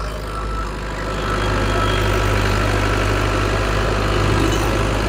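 A Dabang tractor's diesel engine catches and settles into a steady, loud, rumbling idle with a low knocking throb, alone with no voices.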